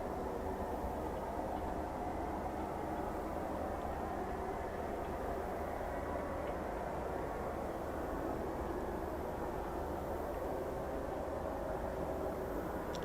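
A Eurofighter Typhoon FGR4 starts up at the RAF Coningsby QRA station, a steady, distant rumbling whine that holds constant under a broad roar of engine noise.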